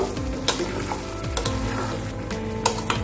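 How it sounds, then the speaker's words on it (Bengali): Paneer is stirred and fried with masala in a pan, making a continuous close sizzle broken by a few sharp scraping strokes of the spoon. "পনিরগুলো দিয়ে মশলার সাথে খুব ভালো করে মিশিয়ে নেব।"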